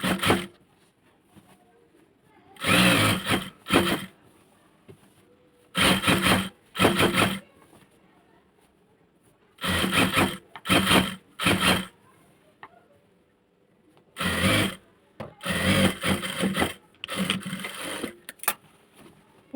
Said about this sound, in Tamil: இதில் மேலே ஒரு அமுக்கு தையல் போட போகிறோம்